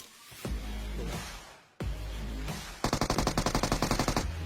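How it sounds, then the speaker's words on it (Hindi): Loud PUBG Mobile gunfire: a couple of heavy blasts, then a rapid automatic burst of evenly spaced shots, with no talking. "तो यहाँ पे थोड़ी सी गोलियां चलती है"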